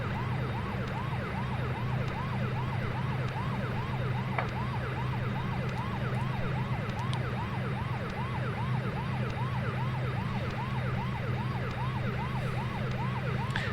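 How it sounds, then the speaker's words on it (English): A looping electronic emergency siren, wailing in steady repeated sweeps, plays continuously and loudly beside a Q400 turboprop in the Prepar3D flight simulator, over a constant low engine hum with faint clicks in the background. "I'm hoping that the little clicking in the background too is also just related to the sound of that siren"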